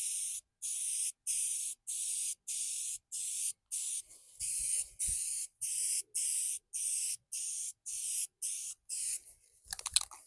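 An aerosol spray paint can lays a second coat on Jeep Wrangler TJ wheel center caps: a dozen or so sharp, hissing bursts of about half a second each, evenly spaced and close, with a brief rattle at the end.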